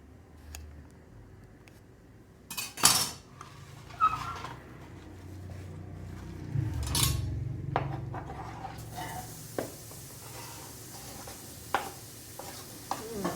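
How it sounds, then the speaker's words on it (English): Onions and garlic sizzle softly in a heating pan, a steady low frying hiss broken by a few sharp utensil knocks and clatters, close and unaccompanied by talk. "Is there anything friendlier than onions and garlic cooking away?"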